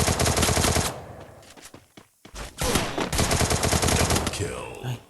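Rapid automatic gunfire from an M500 in a shooting video game rattles in two dense bursts separated by a short lull, loud and close, with in-game effects trailing at the end.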